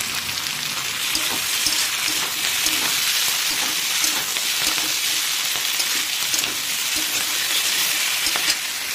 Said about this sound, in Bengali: যেহেতু এটা হাই ফ্লেমেই ভাজা চলছে